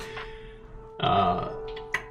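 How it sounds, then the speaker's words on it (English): A single person's burp, one loud throaty belch lasting about half a second close up, followed by faint mouth sounds. "Just had to burp."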